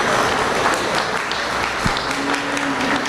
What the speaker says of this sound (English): let's give all these young folks a short round of applause for our appreciation